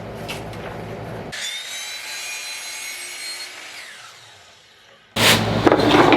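A power miter saw slices a 45-degree cut through wooden trim molding clamped on a combination sawhorse-table, a steady whining cut of about four seconds that tapers off before a loud burst of clatter.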